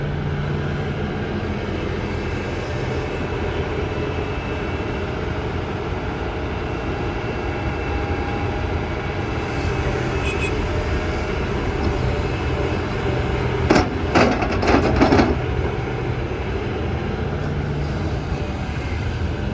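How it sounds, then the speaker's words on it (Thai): A Develon DX360LCA-7M excavator with a Doosan DL08 engine of about 8,000 cc runs steadily, its broad low drone constant throughout, with a few brief higher clanks near the end. "ก็เครื่องยนต์เขาก็ใช้เป็นเครื่องยนต์ของดูซานนะครับ รหัสก็จะเป็นดูซาน DL08 นะครับ"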